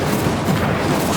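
Incendio fire spell cast in Hogwarts Legacy, a dense, loud roaring burst of flame with a booming, crackling rumble sustained throughout the short moment, no speech over it.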